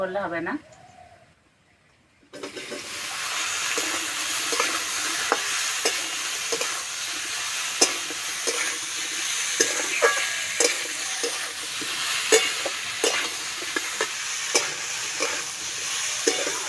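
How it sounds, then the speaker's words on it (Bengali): Boiled papaya stirred into fried onions in a pan sizzles steadily and loudly after a quiet start, with repeated scraping clicks from stirring throughout. "এইভাবে কিছুক্ষণ ভেজে নেব"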